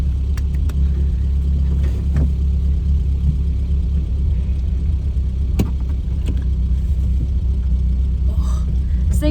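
A Toyota Corolla AE86 drift project car idles just after starting, a loud, steady low engine rumble throughout with a few faint clicks and knocks on top.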